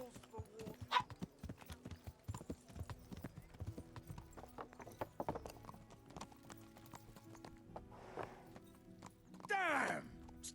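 Horse hooves clip-clop in a steady, uneven walking rhythm in the video game Kingdom Come: Deliverance, fairly close, with a short whinny near the end and faint voices in the background.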